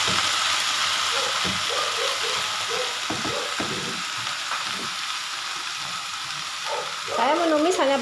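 Washed spinach going into a pan and being stir-fried with onion and chilli, a continuous sizzle with clattering utensil scrapes and knocks early on, and a brief high whining sound near the end.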